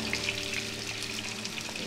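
Vegetarian food frying in hot oil at a street rice stall, a close, continuous hiss and sizzle without pauses, with no talk.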